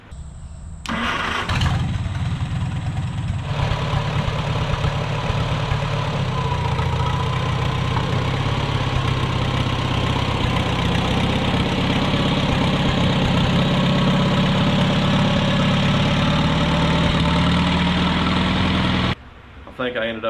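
Farmall Super C tractor engine idling, a steady close mid-low rumble that runs continuously and evenly throughout, with a brief clatter near the start and a short cut near the end.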